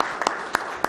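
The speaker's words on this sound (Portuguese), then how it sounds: "Vamos dar uma salva de palmas para ele." A gathering applauds for a senator named Hélio, though only a few separate, sharp claps stand out over a low room murmur in a very short burst.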